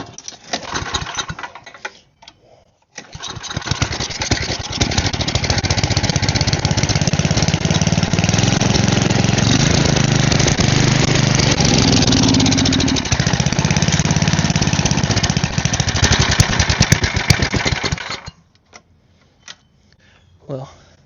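A small gasoline engine being repaired for a go-kart starts up and runs steadily at a loud, rough idle for about fifteen seconds before cutting out, with brief handling noises before and after.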